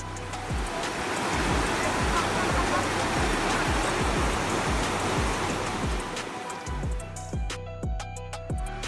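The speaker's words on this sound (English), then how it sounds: "that's water flooding the desert with camels and their owner calmly walking through it" Floodwater surging across the desert, a loud continuous roar and rush of churning water, steady throughout with no voices.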